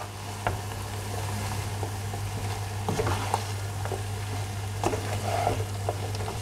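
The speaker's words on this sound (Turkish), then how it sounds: "5 dakika kavuruyorum." Washed, chopped leeks sizzle steadily in a hot pan, with soft crackling and occasional scraping stirs, and no voices.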